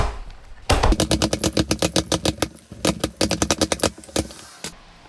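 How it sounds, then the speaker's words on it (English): A Ryobi string trimmer head being spun by hand to wind on new line gives a rapid run of sharp plastic clicks and ratchets, close and fairly loud, with no talking. "then you'll just spin this guy all the way until your string is mostly gone"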